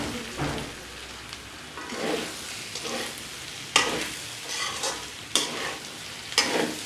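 Ground garlic and cumin paste being stirred into a sizzling raw-banana stir-fry in a pan, with repeated scraping strokes over a steady fry, fairly close and with no talk.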